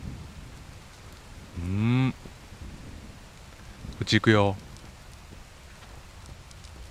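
Steady heavy rain falls in the Shame Legacy game, a constant wash of noise beneath two short spoken phrases and a mooing-like sound.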